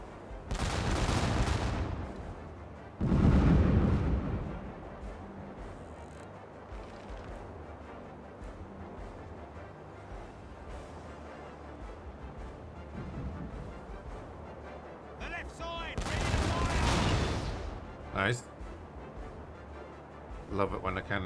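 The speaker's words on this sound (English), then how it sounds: "Cannon explodes like that." Several heavy booming blasts of ship cannon fire in the naval video game Caribbean Legend, spread out over the stretch, with someone talking between and under them.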